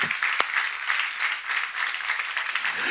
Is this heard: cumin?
no